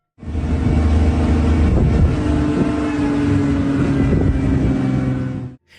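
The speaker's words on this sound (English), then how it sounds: "The forest echoed with the sounds of the car's engine and the thumping of the rhino's giant feet." A car engine drones in a forest during a chase with a rhino. The steady rumble is loud, close and unbroken, rising in for several seconds and then cutting off, with no voices.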